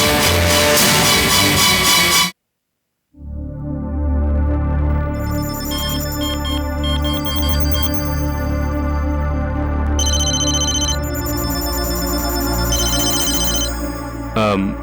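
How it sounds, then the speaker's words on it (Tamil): A mobile phone ringtone for an incoming call plays loudly after a short burst of sound and a moment of silence, a repeating melodic ring that continues to the end. "அண்ணாச்சி, அபிராமி மேடம் ஃபோன் பண்றாங்க."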